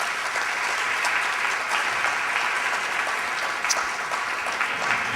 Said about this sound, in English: let's give a round of applause to our media team, John Gelsomino and Lorenzo de Corbera.